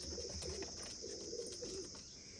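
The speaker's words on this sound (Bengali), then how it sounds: "এই হচ্ছে আমার জনসিরা ফিমেল, আর এই হচ্ছে টেডি 128" Pigeons coo softly in a loft, a few low murmuring calls against a faint steady background hiss with no talking.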